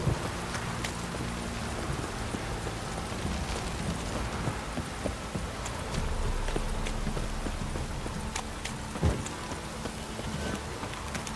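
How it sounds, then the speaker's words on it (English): A heavy rain downpour in The Witcher 3: Wild Hunt, a dense, steady patter of drops filling the scene, with horse hoof clops mixed in underneath. "This downpour's a bastard."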